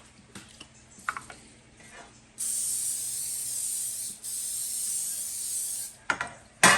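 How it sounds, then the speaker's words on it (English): Olive oil cooking spray hisses onto a pan in two long, loud, close bursts of nearly two seconds each, separated by a brief pause, after a few quiet clicks and handling sounds. "I'm going to spray this pan."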